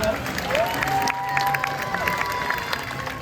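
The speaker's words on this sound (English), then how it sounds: "how about a nice big round of applause for Mishka?" Audience applause rises at a tiger show at Six Flags Discovery Kingdom, a steady mass of clapping with scattered cheers and a presenter's voice over it.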